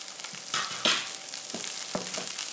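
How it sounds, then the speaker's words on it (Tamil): Onions and curry leaves fry in a pan for green gram upma: a soft, steady sizzle broken by a few sharp spatula scrapes and stirs, with no one speaking. "அந்த வெங்காயம்லாம் செவந்தோடனே இந்த கருவேப்பிலையை போட்டு கிண்டி விடணும்"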